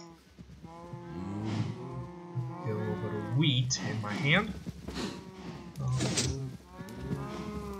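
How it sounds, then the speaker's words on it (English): Several Minecraft cows moo repeatedly in the video game, with loud, drawn-out lowing calls that overlap. A person talks over the cattle throughout. "So yeah, we have more cows waiting."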